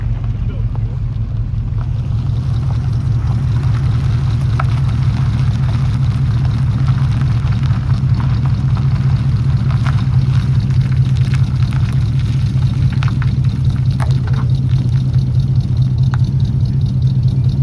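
A 1969 Pontiac Bonneville Safari engine drones steadily under load while flat towing a 1969 GTO, a loud continuous low rumble heard from inside the car, with occasional faint talk over it.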